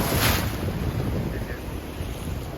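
Sea waves wash steadily against a rocky coastal grotto in Malta, with a broad continuous roar and wind buffeting the microphone, no distinct individual breaks.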